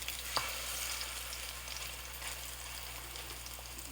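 Slices of plantain fry in a pan with a soft, continuous sizzle and light crackle, faint and steady, with a single small tap near the start and no voices.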